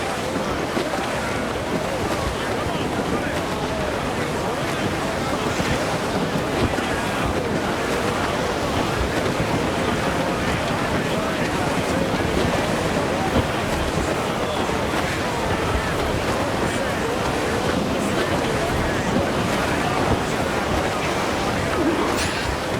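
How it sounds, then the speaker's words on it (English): A stormy sea in a squall in Assassin's Creed IV Black Flag, with waves and heavy wind roaring as a dense, unbroken wash of loud noise around a sailing ship, steady and close throughout. "let's ride this squall"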